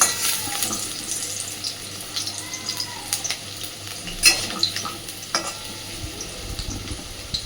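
Potatoes fry in a pan for a Bengali pumpkin and potato curry, with a steady soft sizzle broken by scattered scraping clicks of stirring and a few louder knocks, close and without talk.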